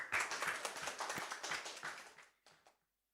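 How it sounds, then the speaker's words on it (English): Applause from an audience at an academic teaching and learning conference, a dense burst of clapping that fades out after about two and a half seconds, with a brief smaller patter just before silence. "please give applause again."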